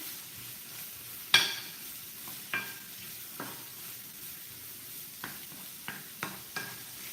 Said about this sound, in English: Give our mushrooms a bit of a stir.